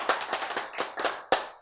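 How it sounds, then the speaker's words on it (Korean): A small church lecture audience gives a short burst of clapping: about half a dozen sharp, separate claps over under two seconds, moderately loud and close. "박수!"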